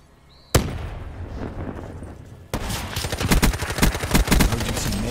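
A sudden loud blast from a grenade in a first-person shooter match, followed after a quieter stretch by a dense burst of rapid automatic gunfire, sharp cracks pounding close and fast.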